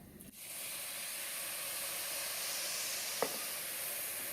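White wine poured into a hot pan of risotto rice bursts into a loud, steady sizzle and hiss that holds evenly, with a faint clink partway through.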